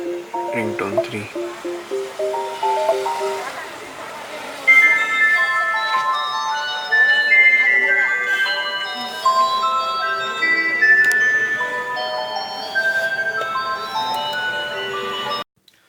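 Ringtone 3 on a Ford EcoSport multimedia player plays through the car speakers as a bright electronic melody of chiming, bell-like notes, fairly loud and continuous for about fifteen seconds after a brief voice at the start.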